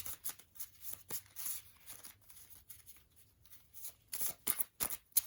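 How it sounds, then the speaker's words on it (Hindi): Tarot cards drawn and shuffled from a deck during a card reading, giving soft papery slides and flicks in irregular bursts, with a few sharper snaps near the end; close and fairly quiet. "एक लास्ट कार्ड और निकालते हैं"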